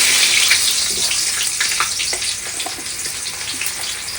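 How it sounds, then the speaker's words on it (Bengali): Onions go into hot oil in a pan for a fish curry cooked at a winter picnic, giving a loud, steady, close frying hiss that fades slightly toward the end, with no talk. "এবার আমি তরকারি চাপিয়ে দেবো আমার তেল গরম হয়ে গেছে প্রথমে দেব পেঁয়াজ"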